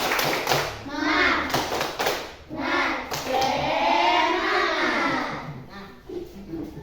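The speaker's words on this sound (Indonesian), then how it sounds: "tepuk semangat" A primary school class performs a patterned spirit clap before group work, children chanting together in unison while bursts of rhythmic hand claps and thumps mark the beat, close and lively.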